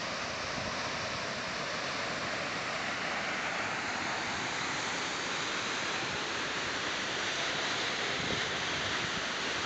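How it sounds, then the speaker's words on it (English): Waterfall at the Ajanta Caves, heard as a loud, constant broadband roar of falling water, steady and unbroken throughout. "that's the base of the fall."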